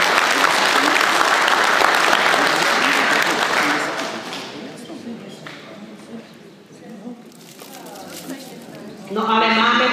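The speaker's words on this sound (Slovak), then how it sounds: "Takže 80-tníkom ešte raz potlesk," Loud applause rings out at a celebration honoring people who have turned eighty, lasting several seconds before fading. A voice starts speaking as it dies away.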